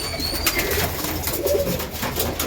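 Male beater pigeons cooing in a loft, soft low coos under a steady broadband noise, continuous and close.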